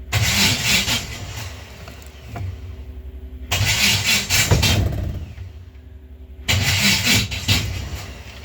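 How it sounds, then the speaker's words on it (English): A 1950 Studebaker engine with a worn starter cranks in three loud bursts of grinding, each about two seconds long, with quieter pauses between them and no talking. "And when I hit the key, still gotta fix that starter."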